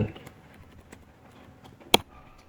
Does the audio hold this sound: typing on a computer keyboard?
yes